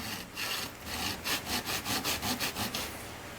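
A wiper drive cable on a TR4A windshield wiper system is pushed back and forth vigorously, giving a close run of about ten rhythmic rasping, scraping strokes with no voices.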